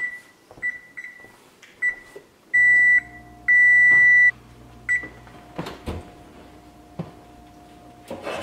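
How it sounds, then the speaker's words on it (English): A kitchen oven timer being set for bread baking gives a series of short electronic beeps, some held longer, with button clicks and a low appliance hum, close and clear. "And I'm going to set the timer for a half hour."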